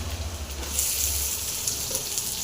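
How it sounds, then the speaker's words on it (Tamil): Garlic frying in hot oil with popped mustard seeds in a pan for a Tamil drumstick-leaf stir-fry, producing a steady close crackling sizzle with no talk. "நல்லா பொரியட்டும் பூண்டு போடலாம் போட்டு நல்லா கழிச்சிங்க"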